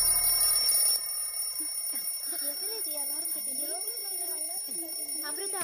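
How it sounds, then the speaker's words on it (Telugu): An alarm rings steadily in a police station scene from a Telugu action film, its bright repeating tone running throughout while a voice speaks over it. "అమృత, ఇది అలారం పెట్టుకుని ఆడుకునే టైం అంటే ముందు దాన్ని ఆపవే."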